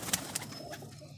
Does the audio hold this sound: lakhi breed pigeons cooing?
yes